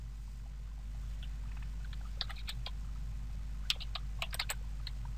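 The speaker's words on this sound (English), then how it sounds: "you have to type this out" Keys clacking on a computer keyboard while data is typed in to securely erase a hard drive, with scattered single clicks building to quick clustered bursts over a steady low hum.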